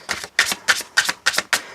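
New, stiff tarot cards being shuffled by hand, six brisk riffling bursts in an even rhythm, close and clear with no talking.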